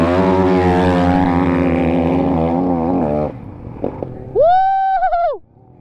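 Kawasaki and Husqvarna dirt bikes race, their engines roaring loud and near with buzzing revs that climb and fall, then a sharp, high rising whine holds briefly before cutting off.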